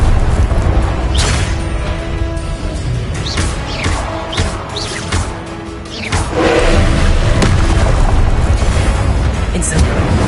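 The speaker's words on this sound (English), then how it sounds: "Incendio! Confringo!" Incendio and Confringo spell blasts in Hogwarts Legacy, a run of loud booming bursts and crackling impacts over heavy low rumble, with a brief lull midway before the explosions resume.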